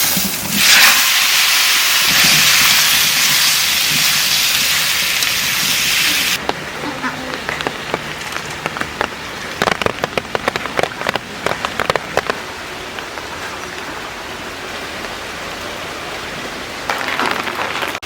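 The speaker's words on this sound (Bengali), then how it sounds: "এই মাছ ভাজা তেলের মধ্যে কচুটা একটু বাজিয়ে নেব" Taro sizzles loudly in hot oil left from frying fish, a dense hissing crackle for the first few seconds, then quieter spattering and clatter as cooking continues.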